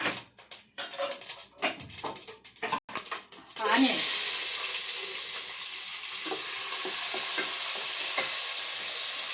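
Chopped onions hit hot oil seasoned with mustard seeds and cumin, bursting into a loud sizzle after a few seconds of clinking and stirring, then settling into a steady frying hiss while someone talks over it.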